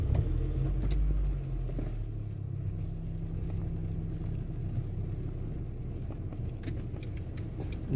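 A car drives along a road with a steady low rumble of engine and tyre noise throughout, heavier for the first second and then even, with no talk.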